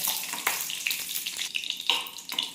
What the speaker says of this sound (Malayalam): അതിലേക്ക് ഒരു 10 വറ്റൽമുളക് ഇട്ട് വഴറ്റി കൊടുക്കുക